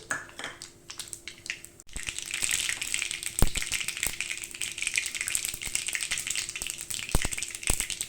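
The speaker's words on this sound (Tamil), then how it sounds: "கடுகெல்லாம் நல்லா பொரியட்டும்" Mustard seeds and curry leaves hitting hot oil for a tomato pickle, a quick sharp crackle followed by a steady loud sizzle with a few popping ticks, close and continuous with no voices.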